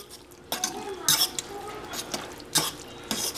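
Shredded chicken being stirred in a pot with pato sauce and hot chicken stock, giving a few brief scraping, clinking utensil-against-pot bursts over quiet kitchen background.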